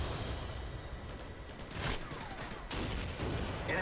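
Gunfire in a Call of Duty match, a steady noisy barrage of distant and mid-range shots with a couple of sharper bursts, constant and fairly loud.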